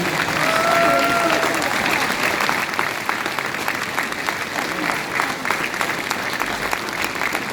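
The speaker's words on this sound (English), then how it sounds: "So a big round of applause for all the bereaved and survivors and for the community." Outdoor crowd at the Grenfell Tower silent walk in London in November 2019 applauds the bereaved and survivors, a sustained dense round of clapping with scattered cheers and a brief whistle, easing slightly toward the end.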